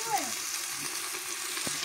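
Meat sizzles faintly and steadily in a pan with onion and tomato. The clip is brief and quiet, and a voice may murmur faintly in the background.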